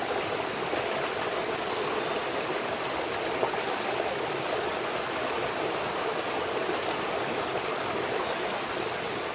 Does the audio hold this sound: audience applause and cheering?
no